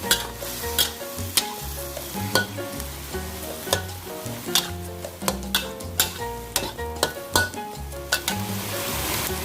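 Beef with black pepper stir-fries in a pan, a steady loud sizzle broken by repeated scraping and clanking of a utensil against the pan in an uneven rhythm, with no talking.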